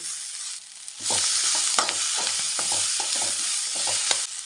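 Small onions, garlic and tomatoes sauté in a pan for ivy gourd chutney. A quieter start swells into loud sizzling about a second in, with rhythmic spatula scrapes and stirs repeating over the hiss.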